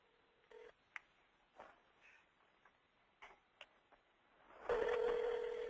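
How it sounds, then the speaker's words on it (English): Scattered clicks and short tones from a cell phone as a number is keyed in, heard through the phone on speakerphone in a quiet room, ending in a louder sustained tone burst. "I'm going to dial that number that you see on the screen. And let me put this on speakerphone so you can hear it."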